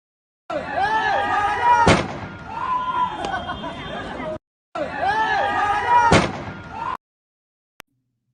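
A militant fires on a man atop a wall at Kabul's Hamid Karzai International Airport: two sharp, loud shots cut through a dense, noisy crowd clamor, with a brief break between bursts and a faint click near the end.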